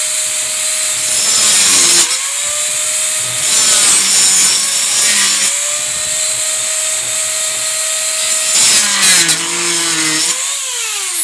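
A rotary tool cuts and trims a fiberglass Judge Dredd helmet with a loud, steady high-pitched whine and gritty rasping, the pitch dipping briefly several times as the tool bites into the material.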